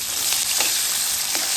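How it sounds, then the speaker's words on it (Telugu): Chopped tomato pieces land in a pan of frying onions and carrots for a Karachi nooka upma, giving a loud, close, continuous sizzle with a few soft stirring swishes and no talk. "ఇప్పుడు టమాటా ముక్కలు వేసేస్తున్నాను."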